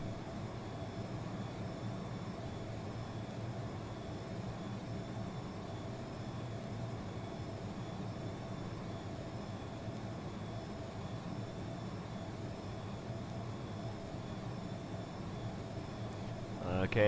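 An Iris F-22 Raptor jet in Flight Simulator X rolls out along the taxiway, its engines giving a steady, even drone throughout that swells slightly at the very end.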